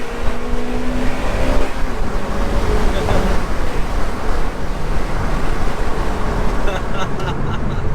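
A fully stripped Honda Civic Type R FN2 on the road, heard from inside as a continuous loud engine drone with road and wind roar, briefly rising in pitch and steady the rest of the way.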